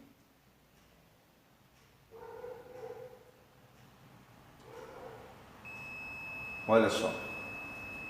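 A multimeter gives a steady continuity beep while its probes test a coil winding on a household fan motor. The tone starts late and holds to the end, preceded by brief speech, with a dog-like yelp over it.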